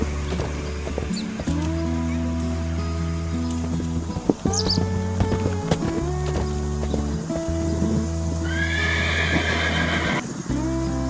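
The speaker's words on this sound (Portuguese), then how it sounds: "O som que ele produz é chamado de relincho." A horse neighs and whinnies, with long wavering calls, a bright shrill whinny near the end, and some hoof clip-clop mixed in, loud and close.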